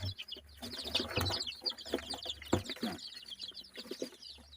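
Busy, high-pitched chirping from a group of week-old chicks, overlapping peeps with occasional louder cheeps, fairly close, no voices.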